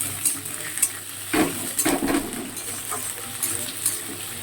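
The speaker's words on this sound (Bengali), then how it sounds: "দেখো আলু আর পেঁয়াজটা ভাজা ভাজা হয়ে গিয়েছে" Potatoes and onions frying in a pan for an okra dish, a soft steady sizzle with occasional spatula stirs and light clinks of the utensil against the pan.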